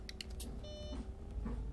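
In the bus simulator OMSI 2, a Heuliez GX 137 city bus gives a short electronic beep as its doors close, a brief tone heard over low engine rumble and cabin noise.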